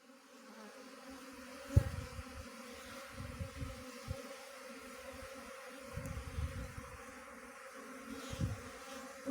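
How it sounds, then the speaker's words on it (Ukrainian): Bees buzz softly in a low, wavering drone, with individual insects passing close now and then against a quiet outdoor background. "бачите, тут якраз бджоли"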